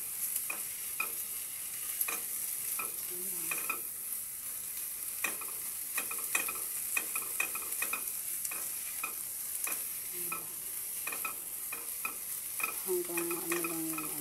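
Onions stir-frying in a pan for pancit bihon, a constant close sizzle broken by repeated sharp scrapes and clacks of a utensil stirring, with brief tonal squeaks near the end.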